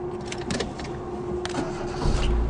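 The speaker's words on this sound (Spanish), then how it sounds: "El vehículo enciende correctamente." A grey 2009 Renault Clio Expression with a standard transmission is started. The starter whirs and clicks briefly, then the engine catches with a deeper rumble near the end.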